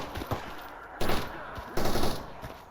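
Distant gunfire in the S.T.A.L.K.E.R. Anomaly game, set in a foggy Chernobyl Zone: scattered single shots, then two louder bursts of rapid automatic fire, muffled by distance.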